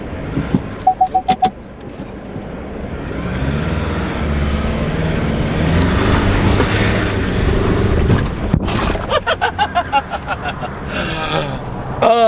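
A Ford Raptor truck drives and hits a jump: a steady, loud engine roar builds, then a heavy thump as it lands, with a few sharp clicks at the start and end.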